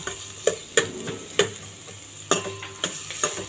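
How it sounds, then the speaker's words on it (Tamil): Onions frying in oil for a chicken 65 gravy, with a steady sizzle beneath sharp spoon scrapes and clinks as they are stirred, several distinct strokes spaced through the stretch, close and moderately loud. "எண்ணெய் ஊற்றி ஒரு வெங்காயத்தை வெட்டி வெங்காயம் நல்லா வதங்கணும்."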